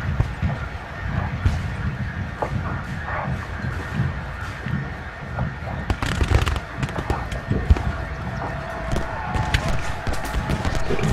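Gunfire crackles in a Civil War battle video game, Union against Confederate forces, as irregular volleys of sharp pops and cracks, some near and some distant, over a rumbling battlefield backdrop.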